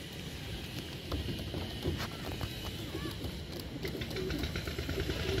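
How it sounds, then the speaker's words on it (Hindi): Pet pigeons in a loft coo softly amid rustling and shuffling, with low throaty calls repeating over a busy, close background. "ये कबूतरी है"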